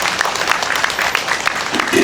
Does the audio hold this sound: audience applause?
yes